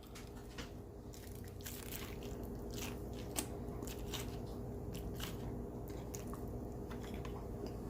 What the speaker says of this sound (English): Let me take one more bite if I can hold it together.